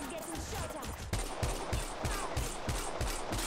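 Rapid gunfire in the mobile battle royale game Apex Legends Mobile, a regular burst of sharp shots about three per second over dense game noise, loud and continuous.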